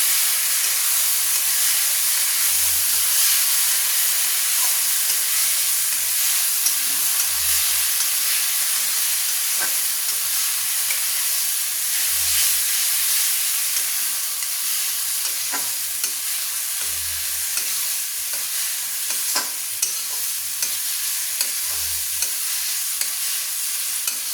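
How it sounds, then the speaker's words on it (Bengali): Ginger and garlic paste frying with spices for chicken curry, a steady bright sizzle with scraping stir strokes and occasional soft knocks against the pan, no talking. "দিয়ে ভালো করে নেড়ে নিচ্ছি, মশলাটা কষিয়ে নিচ্ছি"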